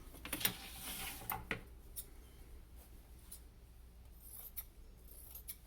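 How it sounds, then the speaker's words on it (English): Quiet, close snips of scissors cutting open a fabric tube along its seam, a few scattered crisp cuts and soft rustles against a hushed background. "So I have to cut open the tube. So I'm going to grab the scissors now."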